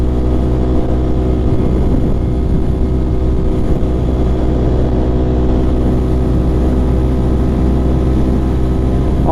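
A 2024 Aprilia RS660 sport motorcycle fitted with an Akrapovic full race exhaust, its engine holding a steady, loud, deep drone throughout with no talk.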